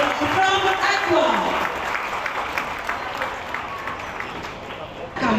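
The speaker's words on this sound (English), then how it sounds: "So parents, put your hands together to cheer up teeny talents from Aqua." Parents applaud nursery children at an annual pre-school sports meet, a steady broad wash of clapping from a crowd that fades slightly before a fresh burst at the end, with voices and chatter mixed in.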